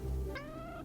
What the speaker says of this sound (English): Little loth cats